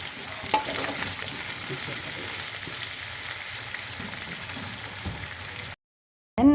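Garlic, onion and chili sizzle steadily in hot oil as a base for caldereta, a dense crackling fry that stays loud for about six seconds before cutting to silence, with a brief burst at the end.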